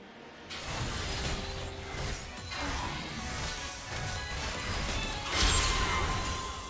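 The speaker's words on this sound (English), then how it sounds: "Red Team's turret has been destroyed." A turret is destroyed in League of Legends: a loud crashing collapse with rumbling debris begins suddenly and keeps going for several seconds, ending in a final heavier impact.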